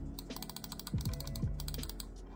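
A computer mouse's buttons are clicked repeatedly during a test, giving crisp, close plastic clicks in quick bursts with a couple of sharper presses, against a quiet room background.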